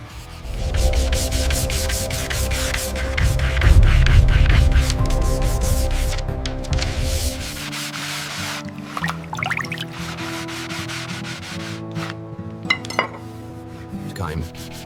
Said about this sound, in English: The final sanding stage uses 600 grit paper to create a surface that is nearly flawless